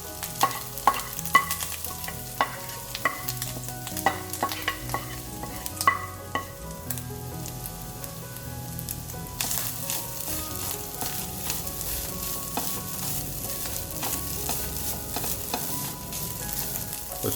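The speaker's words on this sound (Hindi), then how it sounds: "ये जो नारियल है इसको अब हम इसमें ऐड कर देंगे, और इसको हमें रोस्ट करना है इसमें" Coconut roasting in hot oil over medium heat for banana flower sabzi, a continuous crackling sizzle with sharp ticks and scrapes of stirring, close, with a faint tonal hum in the background.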